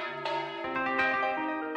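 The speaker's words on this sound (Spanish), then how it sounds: "el repique del bronce de estas campanas son la banda sonora de este caserío" Bronze church bells ring at Santa María church in Utrera, Seville, with several overlapping strikes. Bright, sustained tones ring out and decay into each other, loud and close.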